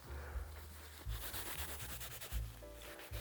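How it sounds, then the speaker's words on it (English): Burnished leather edges being rubbed briskly by hand, giving steady close friction strokes in short repeated bursts with brief pauses between them. "Just gonna give them a quick rub."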